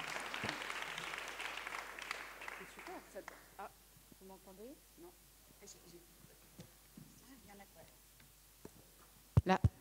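Studio audience applause at a French talk show fades out over the first few seconds, giving way to quiet speech and a few sharp knocks near the close.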